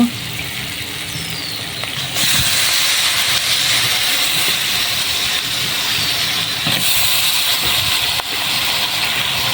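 Poultry meat goes into spice paste frying in a pan, giving a loud, continuous hissing sizzle that swells sharply as the meat hits the oil. It stays strong throughout, with no talking.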